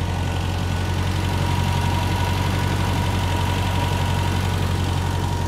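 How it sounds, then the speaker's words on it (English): A 1975 MGB engine idles steadily on its automatic choke, a continuous low rumble with an even, throbbing pulse, close and fairly loud throughout with no talking. "It's running off of the automatic choke right now."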